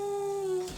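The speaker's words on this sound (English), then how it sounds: "That's my dog." A pet dog gives one short, clear howl close by, holding a steady pitch before it breaks off, with no talking over it.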